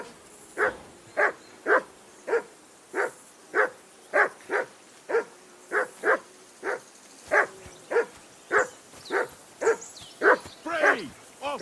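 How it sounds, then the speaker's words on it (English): A dog in the medieval video game Kingdom Come: Deliverance 2 barks loudly and nearby, about seventeen evenly spaced barks in a steady rhythm, with no voices over them. "Jesus, Henry, that barking's driving me nuts."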